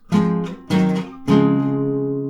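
Three strummed acoustic guitar chords from a song, each struck firmly and the last left ringing out, close and clear with no voices.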